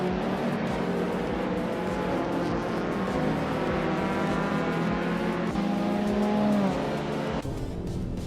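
Race cars in a racing video game, among them a 2016 Mazda MX-5 Cup, drone and whine continuously with engine notes shifting as cars pass, a steady mid-level roar with no talk.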